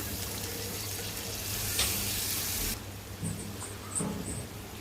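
Water poured into frying chicken masala for a bhuna gives a brief rushing hiss that drops abruptly to a quieter simmering sizzle with a few faint clinks, all fairly soft and with no talk.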